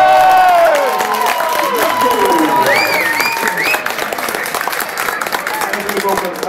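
Loud audience applause and cheering from a crowd at a live show, dense clapping with whoops and shouts, tapering slightly as it goes on.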